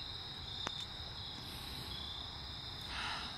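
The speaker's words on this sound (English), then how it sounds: "let's see if we can find a tree cricket of some sort" Tree crickets chirping from a bush at night, a steady high-pitched trill running continuously at moderate distance, with a couple of brief clicks and a faint rustle near the end.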